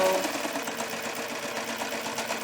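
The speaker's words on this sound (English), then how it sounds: "I'm going to go ahead and use my machine to stitch it closed." A sewing machine stitches a fabric pumpkin pot holder closed, giving a steady fast whirring hum that runs continuously and up close.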